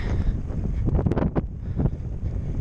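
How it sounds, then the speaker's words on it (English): Steady wind buffeting a microphone while cycling in Turkey, a loud low rumble that gusts unevenly throughout with no voices. "today's been a real windy one."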